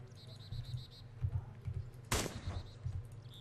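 Gunfire from the survival game DayZ: one sharp, loud shot cracks near the middle, set against a background of faint rhythmic ambient noise and low rumble, with a softer distant report late in the clip.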